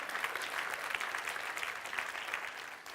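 Church congregation clapping during a sermon, an even, continuous patter of many hands at moderate distance, fairly soft and lasting the whole moment without voices.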